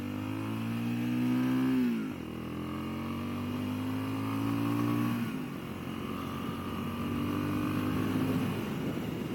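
A Genuine G400C motorcycle with a 5-speed transmission revs hard through the gears while riding on a parkway, the engine pitch climbing, dropping at each shift and climbing again, loud and close throughout with no talk.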